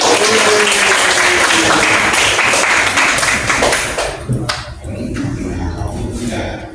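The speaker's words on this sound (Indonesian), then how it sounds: "Tepuk tangan dong." Loud applause from a classroom audience, dense clapping that holds strong for several seconds, then thins to scattered claps with faint murmuring underneath as it dies away.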